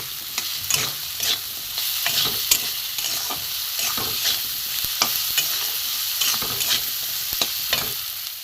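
Fish curry masala with potatoes stir-fried hard over a high gas flame, loud continuous sizzling with frequent spatula scrapes against the pan, close and steady with no voices.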